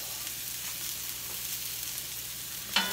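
Freshly chopped onions hiss in a hot pan, a steady close sizzle that holds evenly, with a small clatter near the end.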